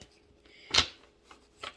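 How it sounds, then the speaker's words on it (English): Tarot cards are shuffled in a few quick riffling bursts, one sharp and close, the others softer, with quiet pauses between them and no talking. "If I can get the cards. This time they don't want to shuffle."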